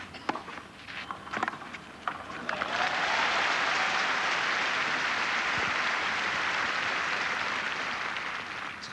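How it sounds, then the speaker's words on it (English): A French tennis crowd at the 1999 Roland Garros women's final between Graf and Hingis starts clapping, a few scattered claps first, then a dense, sustained wave of applause that fills the rest of the stretch. "the French with their rhythmic applause trying to awaken Graf's game"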